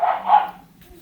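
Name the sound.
dogs barking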